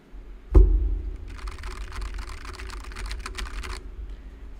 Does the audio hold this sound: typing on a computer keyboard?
yes